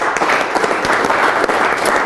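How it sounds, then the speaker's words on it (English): Audience applause at an entrepreneur and small business community event, a dense, steady wash of many hands clapping together, loud and close, sustained evenly throughout. "Let's give Josh a round of applause."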